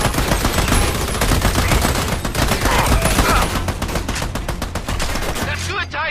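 Rapid, dense gunfire rattles nonstop from a co-op shooter game by EA Montreal, sustained automatic bursts forming a loud, continuous barrage that eases slightly near the end.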